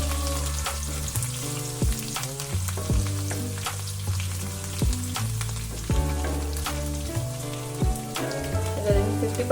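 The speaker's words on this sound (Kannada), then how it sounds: "ಅದಾದ್ಮೇಲೆ ಇಟ್ಕೊಂಡಿದ್ದಂಥ ಶುಂಠಿ ಹಾಕ್ತಾ ಇದ್ದೀನಿ, ಹಾಗೆ ಬೆಳ್ಳುಳ್ಳಿ. ಒಂದಿಷ್ಟು ಫ್ರೈ ಆಗಬೇಕು." Ginger and garlic frying in oil for a Kannada-style bhindi palya, a steady close sizzle with scattered crackles and stirring knocks, under a continuous musical background with no talk.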